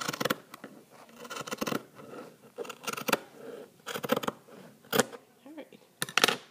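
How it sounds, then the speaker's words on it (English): Scissors snip through burlap fabric in a run of close, crisp cutting bursts with short pauses between, during kindergarten craft prep. "I'm using the elbow inside of my scissors. So otherwise, it's going to be really hard to cut it."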